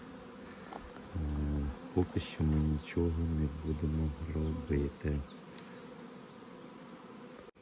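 A honeybee swarm settling into a hive drones with a loud, steady wingbeat buzz that comes in dense overlapping bursts, while someone speaks briefly at a lower level.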